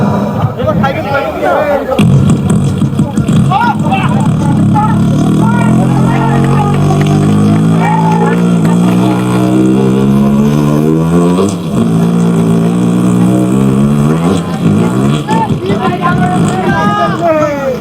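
A performer's voice imitates a car engine driving round during a live comedy show, with a loud, wavering, rising and falling vocal drone that runs almost without break, and some crowd noise around it.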